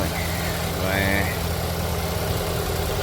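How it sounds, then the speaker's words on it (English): A car engine idles steadily after a jump start from a DeWalt DXAELJ16 1600-amp lithium-ion booster on a completely dead battery, a constant low rumble with a faint higher whine. "Deux petits tours de crank, puis c'est parti cette affaire-là"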